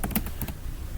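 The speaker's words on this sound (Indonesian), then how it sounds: "Langsung saja kita ketik select" Quick clattering keystrokes on a computer keyboard while entering an SQL query, several close, crisp taps in a brief burst with no voice.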